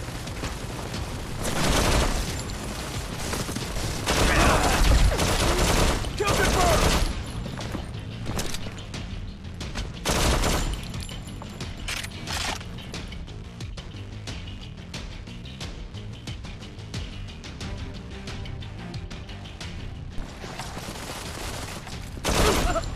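Sustained bursts of automatic gunfire with heavy booms fill a battle scene in the mobile shooter Modern Combat 4: Zero Hour. The shooting is loud and continuous, with rapid volleys swelling and easing throughout.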